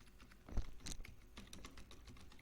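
Quick, light typing on a computer keyboard while entering text into an Excel spreadsheet, a short burst of soft irregular key clicks close by.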